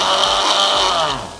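A countertop blender gives one short pulse while blending burger sauce at home, a loud, steady whirring buzz lasting about a second before it tapers off, heard alone with no talking.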